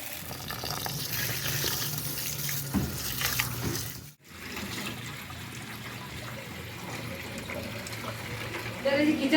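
Tap water runs into a bowl to soak rice in a home kitchen, a steady close splashing rush that cuts off briefly partway through, then resumes and carries on to the end.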